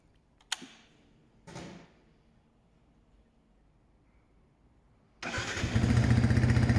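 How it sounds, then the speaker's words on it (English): A Yamaha MT125 motorcycle with its exhaust removed cranks and fires up after a couple of sharp clicks and clunks, then settles into a loud, raw, rasping idle close by, with no talking. "So have you ever wondered what an MT125 sounded like without an exhaust?"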